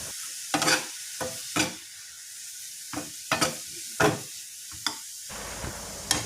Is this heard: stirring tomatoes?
yes